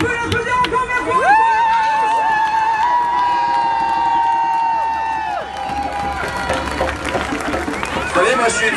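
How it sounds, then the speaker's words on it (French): Audience at a talk applauding and cheering, a dense wash of clapping with raised voices and whoops sustained across the whole stretch, fairly loud. "On peut l'applaudir encore, merci."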